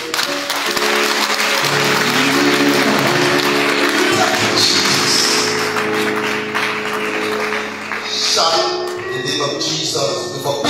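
Congregation clapping along during a lively worship service, rhythmic hand claps mixed with singing voices and music, loud and continuous before fading slightly near the end.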